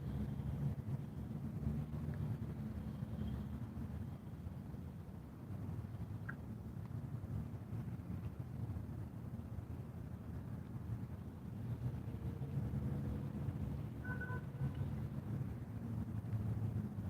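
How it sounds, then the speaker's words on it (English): Steady wind buffets an outdoor fishing spot by the water's edge while trout fishing, a continuous low rumble with gusts that swell near the end, loud and unbroken throughout. "That wind's going to be a nuisance."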